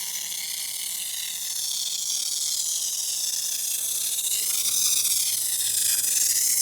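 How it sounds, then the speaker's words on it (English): A hand pump sprayer mists liquid onto a slightly wet car, a loud, steady, close hiss that runs without a break and swells slightly toward the end, with no speech. "I'm going to take this pump sprayer. Watch this."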